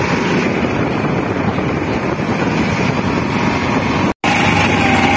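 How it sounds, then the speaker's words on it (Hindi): A tractor drives along a track toward a farm field, its steady engine drone and broad rumble filling the whole stretch at close range with rushing wind noise, briefly cutting out near the end. "और ये वाला रहा हमारा दूसरा ट्रैक्टर"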